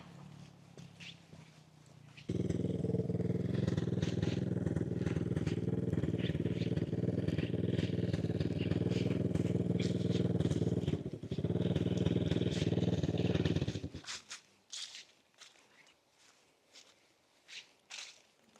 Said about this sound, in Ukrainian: якісь звуки, такі враження, що хто зганяє або на квадроциклах, або на ендуро мотоциклах